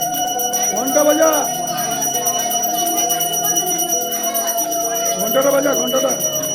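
A hand bell rings continuously at a school during a Saraswati Puja celebration, a steady metallic tone sustained throughout while voices talk and call out over it.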